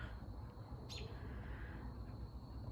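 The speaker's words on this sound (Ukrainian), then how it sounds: "Пташки." A single short bird chirp rises out of steady low outdoor background noise, with a couple of faint calls further off.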